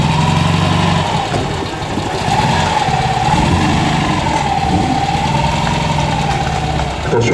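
A Maserati Khamsin engine idles with a deep, steady rumble and a wavering mid-pitched drone, close and loud throughout, at a vintage car festival in Dourdan.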